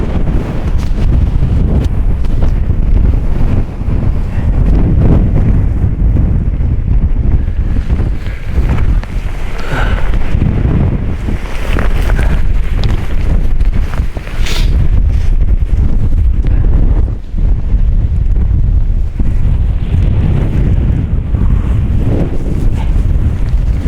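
Strong wind on Kinder Scout moorland roars loud and constant against the microphone, a heavy low rumble with gusty swells throughout and no voices.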